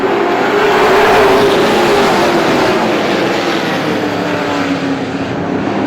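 Pro stock race cars roar away together at a green flag start on a short oval speedway, a loud sustained engine drone of several cars accelerating close by with no voices.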